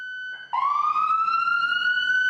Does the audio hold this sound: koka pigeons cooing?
no